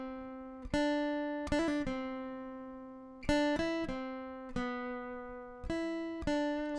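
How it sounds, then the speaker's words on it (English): An acoustic-toned guitar plays the harmony part with a little trill from the intro of a song, with clean single notes and quick fluttering note pairs, rhythmic plucked attacks ringing out, fairly quiet and close. "when you first come in with this harmony part, it's the one that we have the little trill in there, so it sounds like this."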